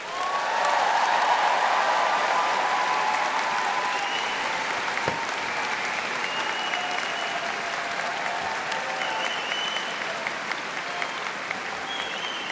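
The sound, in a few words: commencement audience applause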